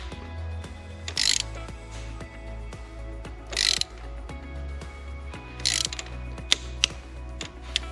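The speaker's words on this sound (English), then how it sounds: "so for such a low torque, we're going to use this torque wrench here" A torque wrench ratchets as it tightens spark plugs in a Volvo 2.0L VEA engine, close and quiet, with repeated rapid clicking strokes and a few brighter bursts of ratcheting between pauses.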